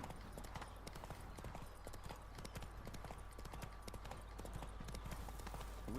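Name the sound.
horse Roach hooves clip-clopping, Witcher 3 video game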